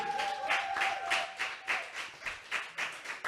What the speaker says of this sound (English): trust me, the applause really helps